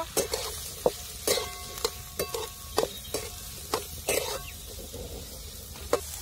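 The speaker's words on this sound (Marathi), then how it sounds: "तर कांदा परतायला तेल टाकायचं आपल्याला थोडस." Chopped onion sautéing in a little oil, a soft continuous sizzle broken by repeated sharp scrapes and clicks of a spoon stirring the pan, fairly quiet and close with no talk.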